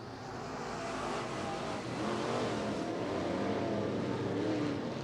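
Modified topless race cars roar around the oval at Grays Harbor Raceway during a heat race, a steady, distant wash of engine noise that swells slightly.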